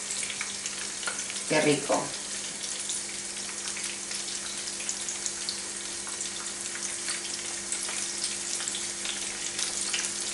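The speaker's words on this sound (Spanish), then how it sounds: "Pescadito frito." Small anchovies frying in hot oil give a continuous close hiss and crackle, broken by a brief splashy burst early on, while a voice speaks briefly.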